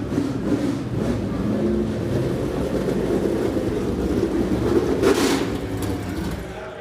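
A 1967 McKee Mark 7 Can-Am race car engine rumbles steadily as the car rolls onto an auction stage, a loud, continuous low drone that swells slightly near the end, with faint voices underneath.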